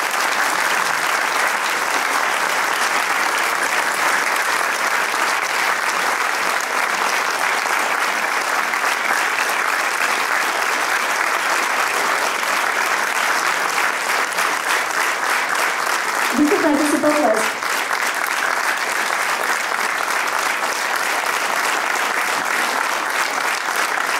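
Sustained applause from an audience in a cinema hall during a folk ensemble anniversary show, dense steady clapping filling the whole stretch with a brief voice near the end.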